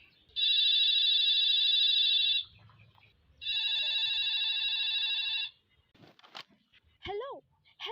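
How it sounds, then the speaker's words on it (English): An old-style telephone bell rings twice in long, loud bursts, followed by a few clicks and a brief voice. "suffering every time that phone rings"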